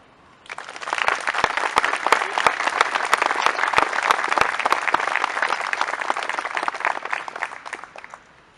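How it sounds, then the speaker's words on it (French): A ceremony audience marking the 18 June 1940 appeal applauds at length, dense sustained clapping rising quickly, holding steady for several seconds, then tapering off, close and full. "Nous pouvons les applaudir."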